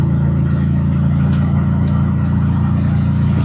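Steady engine drone of a tuk-tuk in Sri Lanka, loud and close, with a constant low rumble and a few brief higher clicks or chirps over it, no talk.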